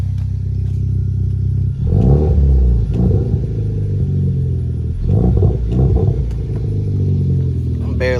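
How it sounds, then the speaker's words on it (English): Hyundai Veloster turbo fitted with an MBRP catback exhaust and no downpipe, revved lightly in a few short bursts over a steady low idle rumble, close by. "That's what the exhaust sound like on the veloster."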